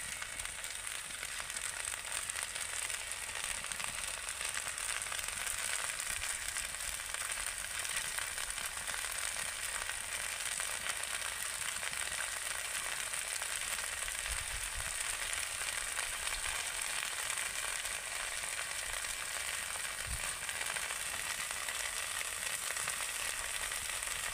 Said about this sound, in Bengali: এইভাবে নেড়ে চেড়ে ভালো করে একদম মুচমুচে করে ভেজে নিতে হবে